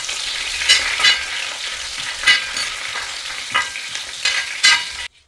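Crushed garlic, still in its skin, frying in oil in a pan for chicken roast: a loud, close sizzle with repeated spatula stir scrapes at irregular intervals, ending abruptly.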